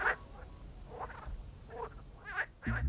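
Frogs croaking in short, separate throaty calls spaced irregularly, close and moderately quiet, with a louder low burst at the end.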